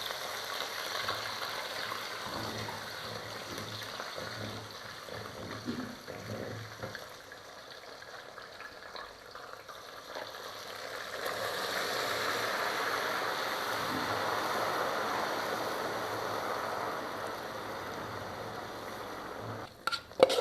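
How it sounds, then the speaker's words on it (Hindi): Semolina for suji halwa goes into a black karahi and is stirred, a soft continuous scraping and gritty rustle that swells midway, fairly quiet and close, with a couple of sharp knocks at the end. "अभी मैं इसमें डालूँगी सूजी, थोड़ी थोड़ी डालूँगी ना, साथ मिक्स करूँगी"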